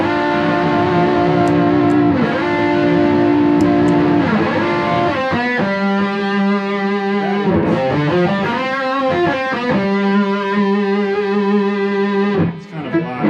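An electric guitar runs through a boost pedal into a distortion pedal on a board of mini pedals, playing loud, saturated sustained chords and riffs with choppy stops and restarts, close and alone.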